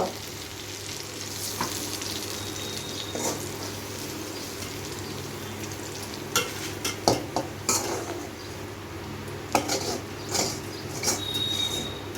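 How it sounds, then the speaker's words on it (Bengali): Fried potatoes are stirred and lifted out of hot oil, with a steady sizzle underneath and scattered sharp metal scrapes and clinks of a utensil against the pan, louder in a cluster toward the end. "আলু ভাজাটা ছেঁকে উঠাতে হবে তো।"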